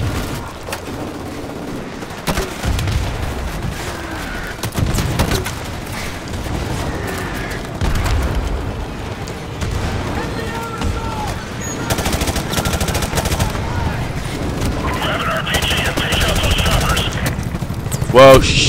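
M16 rifle fire in the shooter Call of Duty: Modern Warfare Remastered, bursts of gunshots spread through a busy combat mix with booms and background battle noise, a voice talking at times.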